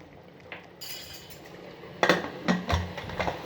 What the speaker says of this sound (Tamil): இப்போ நம்ம குக்கர் மூடிடலாம்.